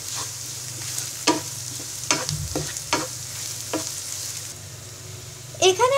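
Egg stirred and scrambled into crumbly bits in a frying pan: a soft steady sizzle broken by a handful of sharp spatula scrapes and taps, fairly quiet and close, with no talking.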